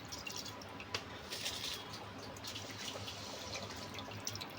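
Water bubbling and boiling in a pot on a home stove, heated for cooking prawn biryani, a steady dense simmer with small drips and pops throughout, close and fairly quiet with no talk.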